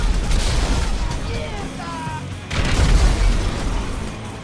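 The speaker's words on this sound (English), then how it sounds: "grenade launcher" Grenade launcher blast in Grand Theft Auto 5, a deep booming explosion that swells loudly around the midpoint and rumbles on, with game voices and effects underneath.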